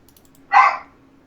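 A dog in the room gives a single short bark, close and fairly loud, with a faint tapping in the quiet background before it.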